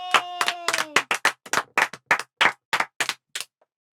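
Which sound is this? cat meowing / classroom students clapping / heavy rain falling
classroom students clapping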